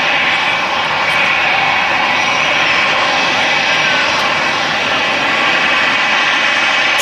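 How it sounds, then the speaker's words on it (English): EasyJet Airbus A319 arriving at Manchester Airport from Pisa, a loud, continuous jet engine roar that fills the whole stretch with broad steady noise. "This is the EasyJet A319 in from Pisa"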